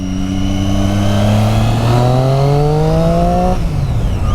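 A 2013 Triumph Street Triple motorcycle revs hard and accelerates, its engine note climbing steadily in pitch for several seconds before easing off, loud and close with no talking.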